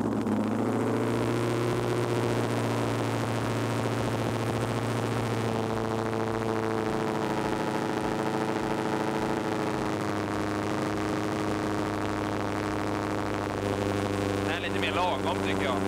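A V8 drag racing engine idles steadily and loudly at close range, a deep continuous rumble with rich low harmonics holding for the whole stretch at a paddock after a race weekend.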